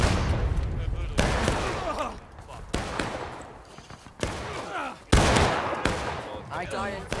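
Gunfire in the War of Rights video game, several loud sharp musket-like shots spaced a second or so apart, each ringing out with echo, while people shout over them.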